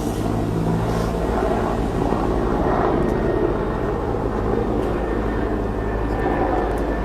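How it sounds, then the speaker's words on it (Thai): Steady loud aircraft rotor and engine drone from a helicopter flying overhead, a continuous low roar filling the whole stretch with no talk over it. "เฮลิคอปเตอร์"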